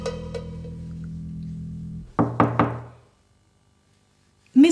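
Three sharp, close knocks on a door ring out in quick succession after a low hum, then fall silent before another sound starts at the end.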